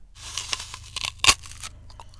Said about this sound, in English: Crunchy. These foods tend to make a specific sound when you eat them.